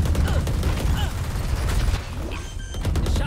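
Video game gunfire during a tactical shooter round, a volley of rapid shots and impacts in the background mixed with game effects and voices talking over it.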